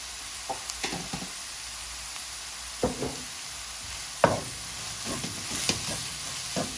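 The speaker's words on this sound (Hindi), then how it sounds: "और इसको अच्छी तरह से फ्राई करूँगी।" Cumin seeds fry in oil with garlic and ginger for a stuffed bitter gourd curry, a faint sizzle broken by scattered spatula clicks and scrapes.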